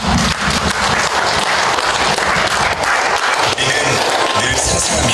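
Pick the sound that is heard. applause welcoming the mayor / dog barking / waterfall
applause welcoming the mayor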